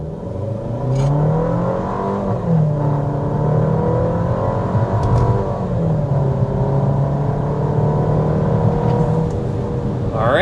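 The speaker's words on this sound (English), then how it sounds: "we've got to start with that hard acceleration." A 2025 Volkswagen Tiguan with a 2-liter turbocharged four-cylinder under hard acceleration, loud engine note climbing steadily through the gears with brief shift dips, heard from inside, no talking.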